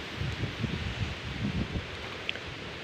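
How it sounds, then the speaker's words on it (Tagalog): Strong wind rushes through the leaves of a potted croton plant, making a steady, close rustling hiss with soft gusting swells and no talk. "lakas ng hangin dito"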